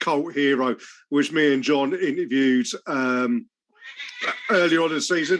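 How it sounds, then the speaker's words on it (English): A pet cat meows in the background beneath continuous close male speech, its short tonal calls rising briefly between and behind the talking. "that's the cat in the background"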